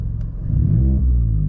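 A Vauxhall Corsa engine with a throttle controller in eco mode is floored but revs only sluggishly, giving a close, steady low rumble that swells slightly and then holds.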